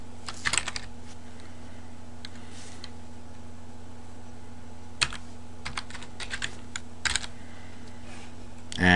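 A computer keyboard is typed on while software registration details are entered, with short bursts of clicky keystrokes separated by pauses over a steady electrical hum.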